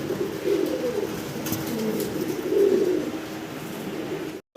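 Fancy pigeons coo inside a cage, a steady low, throaty murmur of several birds running throughout at close range, with no one speaking.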